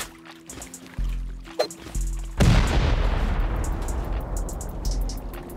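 In the Rust video game, C4 charges blow apart a stone wall: a sudden loud broadband explosion bursts in mid-clip and rumbles on, following earlier synthetic tonal game sounds, with no talking.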